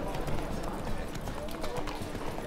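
A horse's hooves clip-clop in a steady rhythm while riding in The Witcher 3 game, set under game ambience and someone talking over it.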